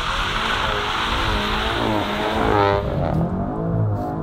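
A Volkswagen Golf GTI launches hard from a standstill with electronic stability control off, its engine roaring close and loud as the front tires spin and squeal, the roar easing near the end.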